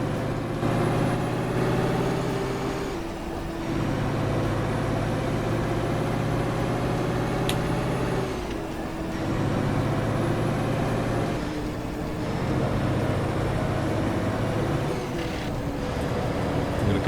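Mack CHU613 truck in American Truck Simulator heard from outside the cab, a steady low engine drone with road rumble and brief gear-change dips, continuous and fairly loud with no talk.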